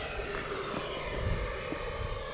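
A 4S RC plane with a 64 mm electric ducted fan flies past, a steady high whine with fluctuating rumble, moderately distant and fairly quiet throughout.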